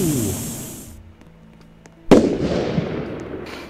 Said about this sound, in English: Explosion time.